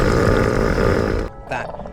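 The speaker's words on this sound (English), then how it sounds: "first of all, you have the wheeze honk." A loud, close, rasping hippo wheeze honk with a deep wheezing call, ending abruptly and followed by a shorter breathy grunt.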